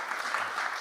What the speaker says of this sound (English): let's give a round of applause for our cool panelists